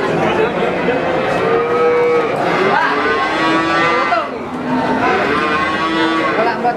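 Dairy bull calves at the Boyolali cattle market moo repeatedly in long drawn-out calls, several animals overlapping at close range over steady market background noise.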